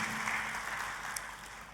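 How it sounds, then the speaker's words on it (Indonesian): Church congregation applauding during a sermon, a faint, dense, continuous wash of clapping that stays even and fairly distant for the whole short stretch. "Kita kasih tepuk tangan yang paling meriah buat Tuhan kita."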